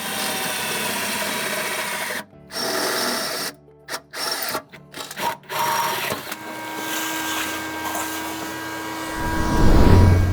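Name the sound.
power drill drilling holes for nutserts in Toyota 4Runner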